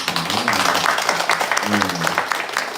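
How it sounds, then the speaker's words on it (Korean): A church congregation claps warmly together in steady, full applause during a Sunday worship service, with a voice speaking over it. "같이 박수로 굉장히 축복합니다"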